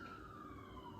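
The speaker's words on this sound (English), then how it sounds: "Ambulance is going by." An ambulance siren goes by outside a home kitchen, one faint, distant wailing tone sliding slowly downward over a low road rumble, with no talking.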